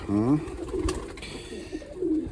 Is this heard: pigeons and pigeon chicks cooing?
yes